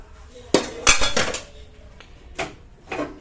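Dishes and pots being washed in a home kitchen, with a run of sharp clattering clinks and knocks of metal and crockery, one cluster early and a few lighter clinks after, close by with no talk.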